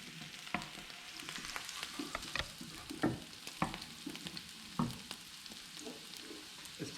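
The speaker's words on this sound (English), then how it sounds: "when you put the batter in, it sizzles a bit." Steady crackling sizzle of toad-in-the-hole batter frying in a hot pan, with scattered pops and occasional clinks of utensils.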